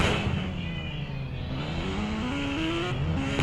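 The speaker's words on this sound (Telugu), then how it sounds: "గోస్ట్ బైక్ చాలా ఘోరంగా ఉంది కదా, సౌండ్ వినాల్సి వస్తుంది మనమైతే" Ghost bike in the Indian Bike Driving 3D video game: a steady, loud engine drone that rises in pitch as it revs, with a rough whine on top, no voices.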